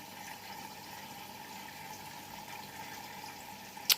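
Bosch Serie 4 WAN28280UA washing machine filling with water, a quiet steady hiss and flow of water running into the drum, with a brief click at the very end.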